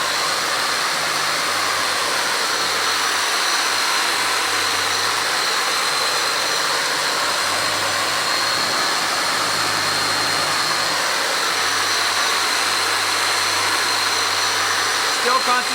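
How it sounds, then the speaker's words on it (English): A carpet brush dry-scrubs a carpet beneath a steady, loud machine roar that fills the whole stretch without pause, the brushing blended into the constant broadband hiss. "I'm just going to start dry scrubbing this carpet and see what we get."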